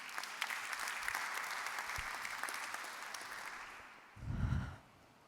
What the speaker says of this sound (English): So join me in applauding him